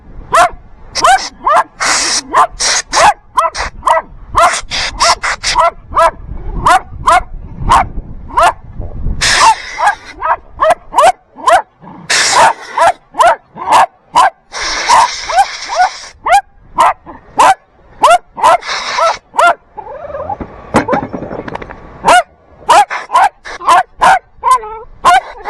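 Dog barking repeatedly in a workshop where wooden beams are made, loud, close sharp barks in rapid bursts with some yips and whimpers, and brief pauses between volleys.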